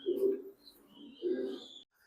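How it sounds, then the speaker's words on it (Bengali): A female Willie racing pigeon wearing a club ring coos softly twice, two low, throaty bursts about a second apart in a quiet room. "উইলি মাদি কবুতর"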